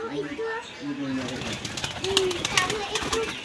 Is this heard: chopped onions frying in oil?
no